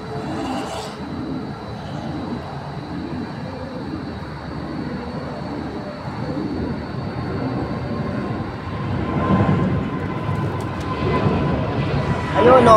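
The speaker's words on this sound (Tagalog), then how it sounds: "isa pang malaking aeroplano" A large passenger jet, reportedly an Abu Dhabi UAE airliner, passes overhead as a steady broad roar that swells toward the end, with voices talking over it.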